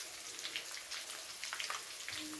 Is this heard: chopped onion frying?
yes